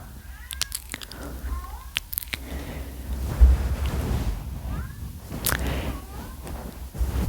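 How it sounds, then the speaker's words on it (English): A cat meows repeatedly outside, several short rising and falling calls spread through a quiet indoor setting, moderately distant, with soft background rustling and no talking. "there's a cat outside meowing a lot"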